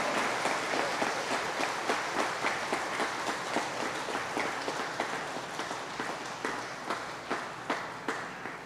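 A church congregation claps at an Easter vigil, a moderately loud, steady rhythmic beat of applause in repeated pulses lasting several seconds.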